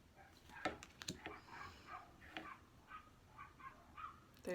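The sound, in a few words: dogs barking outside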